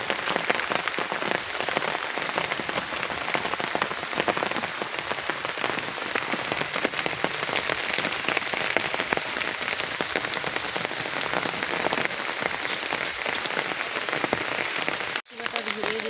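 Steady rain falls outdoors at an open-air village cooking spot with green countryside behind, a dense, even patter of drops filling the whole stretch, with a brief dropout near the end.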